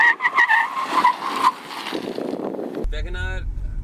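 A FAW V2 1.3-litre hatchback brakes hard with ABS, its tires squealing and skidding loudly for over a second over road and wind noise, followed by a rough, throbbing rumble as it slows.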